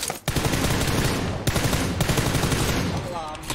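Sustained automatic gunfire in PUBG Lite, rapid bursts rattling almost continuously with a brief pause near the start and a sharp break midway, loud and close.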